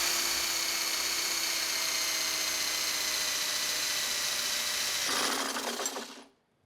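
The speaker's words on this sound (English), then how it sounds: "So I am just gonna drill it." A power drill whines at high pitch for several seconds, shifts tone as it bites in, then spins down and stops.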